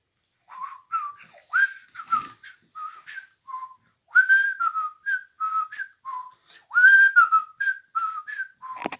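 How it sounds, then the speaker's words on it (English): Someone whistles alone, practising a choppy tune of short phrases with brief pauses between them, close and clear. "I gotta practice my whistling."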